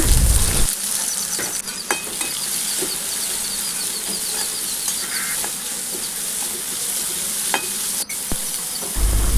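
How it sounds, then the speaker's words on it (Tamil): Onions frying in a pan with chillies and garlic give a steady, close sizzle with occasional stirring scrapes, continuous throughout and with no talk. "அதுக்கப்புறம் வெங்காயத்தை ஆட் பண்ணிக்கிட்டேங்க இது நல்லா வதங்கினதும்"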